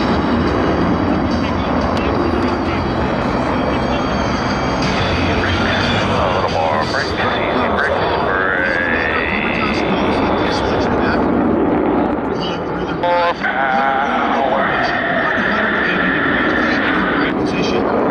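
Blue Angels jets roaring on takeoff at a homecoming airshow, a loud sustained blast of engine noise with rising whines, while a voice on a radio or loudspeaker talks over it.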